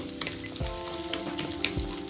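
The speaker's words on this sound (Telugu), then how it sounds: "తరిగిన ఉల్లిపాయ కొద్దిగా వేగనివ్వాలి" Chopped onion sizzles in oil in a kadai with cinnamon, cardamom and cloves, a short burst of soft frying crackle punctuated by a few spoon knocks against the pan; there are no voices.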